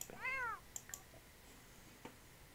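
A cat in The Sims 4 lets out one short, faint meow, then a few soft clicks and taps follow in a quiet room.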